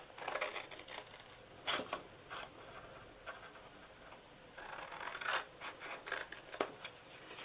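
Scissors snip through paper pieces for a treat box, quiet close crisp cuts coming in small irregular clusters with soft paper rustling between them.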